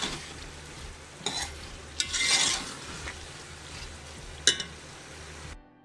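Spices frying in masala for arvi (taro root) curry, a soft continuous sizzle with a spoon scraping and stirring the pan in a few distinct strokes, close and fairly quiet.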